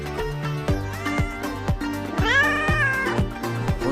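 A cat meows repeatedly and insistently, each close, drawn-out cry following quickly on the last, with one longer wavering yowl in the middle.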